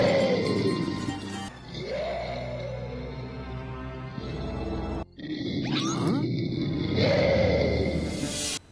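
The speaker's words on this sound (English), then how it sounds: "is lured away by some cheap-ass stock roar sound effects" In a Scooby-Doo cartoon, cheap stock sound effects let out several loud, echoing animal roars and growls, each swelling then cutting off abruptly, with brief gaps between them.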